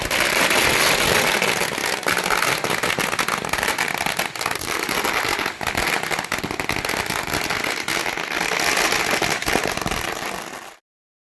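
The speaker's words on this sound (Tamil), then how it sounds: "கல்லூரி முன்பு பாரதிய ஜனதா கட்சியினர் பட்டாசு வெடித்து" Strings of firecrackers burst outside a college during a political celebration, a dense rapid crackle of pops that runs for about ten seconds at close range before cutting off abruptly.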